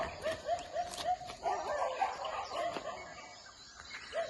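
Dogs barking in a rural coffee-estate setting in Mudigere, with repeated short barks at a moderate distance and birds calling faintly in the background.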